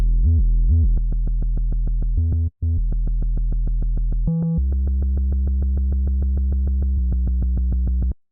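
A low, pure sine-wave bass tone repeats in short chopped hits, mostly steady with a few pitch changes and brief gaps, loud and up front.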